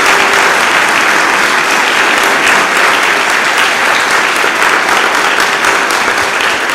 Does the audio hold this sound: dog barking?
no